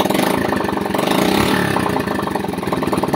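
A motorcycle engine with a broken throttle idles loud and close, a steady rough chugging pulse with uneven beats and no talk over it.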